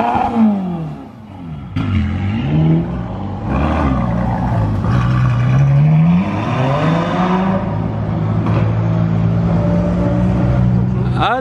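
A Ferrari fitted with a Novitec exhaust arrives on a street in Monaco, its engine rising and falling in loud, close revs that swell and hold steadily, with people talking over it.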